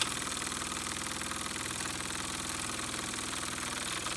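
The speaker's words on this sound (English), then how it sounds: "It's more than just a toy really, it's a little model steam engine." A Doll 510/1 overtype Lokomobile model steam engine, a small cast-iron-based model, runs with a fast, even mechanical chuffing and clattering that holds steady and fairly quiet the whole time.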